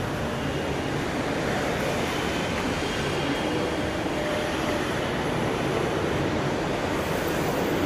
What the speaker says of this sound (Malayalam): നമ്മൾ ഇവിടത്തേക്ക് മെട്രോ കയറിയത്